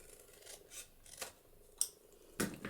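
Scissors trimming a paper embellishment: a handful of crisp, close snips spaced irregularly, each a short bright cut, quiet between them and with no talk.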